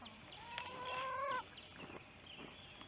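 Broody hens cluck softly on a hay-lined nest while an old rooster lets out a drawn-out, wavering call, all quiet and slightly distant with no talk.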